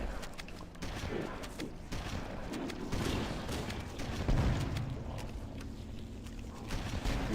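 Shotgun fire during a firefight in Halo CE, a dense run of rapid blasts and bangs layered over a constant loud battle din.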